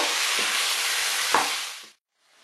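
Meat for Bangladeshi-style haleem fries in a pan as spice mix is stirred in, giving a loud, continuous sizzle with a few scraping stirs. The sizzle fades out abruptly near the end.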